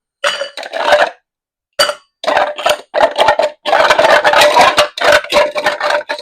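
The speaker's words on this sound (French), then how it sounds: "on va mettre des glaçons dans l'autre shaker" Ice cubes clatter and clink into a metal cocktail shaker while a Long Island iced tea is made, loud close bursts of rattling separated by short pauses.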